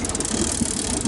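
A sailboat's engine runs steadily on the approach to Masthead Island on the Great Barrier Reef, a close, even mid-pitched drone with a faint rattle over about a second.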